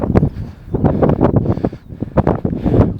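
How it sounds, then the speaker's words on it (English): Strong wind gusts buffet the microphone on the White Cliffs of Dover. The gusts come as close, loud, irregular bursts of low rumbling noise that surge and fade in quick succession. "There's no way you're hearing any of this with how windy it is."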